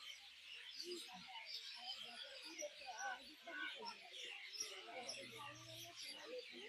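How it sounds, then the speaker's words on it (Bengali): Many birds, including winter migrants, call near a river at Sabujdweep in the evening: faint, dense chirps and twitters overlapping from a distance, with a low murmur underneath. "এখানে এত পাখির আওয়াজ"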